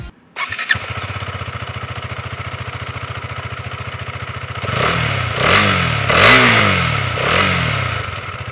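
A KTM Duke 250 BS6 single-cylinder motorcycle engine cranks and catches, then idles with a steady deep, bassy thrum before being revved several times, each rev rising and falling, loud and close.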